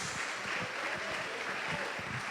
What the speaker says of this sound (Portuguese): Você pode dar uma forte salva de palmas para Jesus?